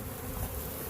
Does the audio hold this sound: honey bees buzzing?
yes